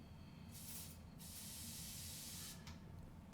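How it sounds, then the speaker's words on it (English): A Febreze kitchen air freshener sprays in two close, steady hissing bursts, the first brief and the second longer, alone without talk. "I'm going to hold it up tight, and then I'm going to spray it."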